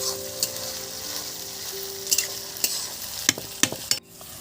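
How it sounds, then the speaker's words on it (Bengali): Masala spices fry in hot oil for a mutton curry with potatoes, a steady close sizzle broken by several sharp scrapes of stirring, with no talk. "মশলাটাকে ভালো করে আমি কষে নেব।"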